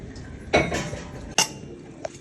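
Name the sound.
ground urad dal flour poured into a vessel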